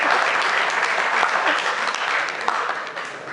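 An audience claps at a comic Hindi poetry recital held at IIT: dense, loud, sustained applause filling the whole clip with no pause.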